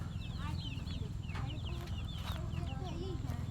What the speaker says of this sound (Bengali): দেখেন ডাকার সাথে সাথেই চলে যাচ্ছে বাড়িতে মোরগগুলো।